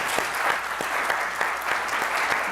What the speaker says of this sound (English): if the audience could give them a round of applause